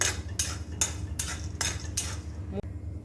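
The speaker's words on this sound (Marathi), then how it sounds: "मूठभर शेंगदाणे मिठामध्ये भाजून घ्यायचे आहेत" Handful of peanuts being dry-roasted in salt in a pan, a spatula scraping and stirring in regular rhythmic strokes about every half second, close and moderately loud, ending with a single clink.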